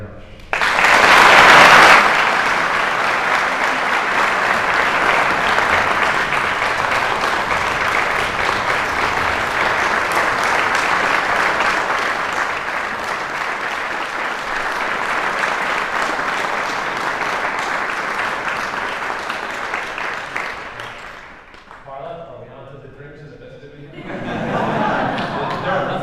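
A large crowd at a university gala applauds loudly and continuously for about twenty seconds, with a brief cheer at the start, then a short lull with voices before clapping swells again.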